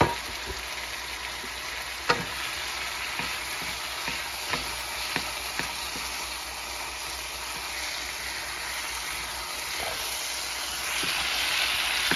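Milkfish (bangus) frying in hot oil, a steady dense sizzle and hiss throughout with a few light clicks and taps from the pan, growing slightly louder toward the end.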